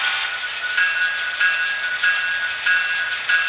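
A model Athearn SD70ACe locomotive's sound decoder, in Union Pacific 1982 heritage livery, rings its bell in a steady, repeated clang roughly every two-thirds of a second over a faint hiss, with no voices.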